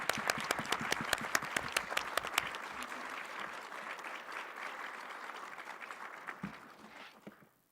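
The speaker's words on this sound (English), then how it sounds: "Let's give Sarah a round of applause." Audience applause at a state leaders' meeting on homelessness, starting with sharp distinct claps that merge into a steady wash and then fade out toward the end.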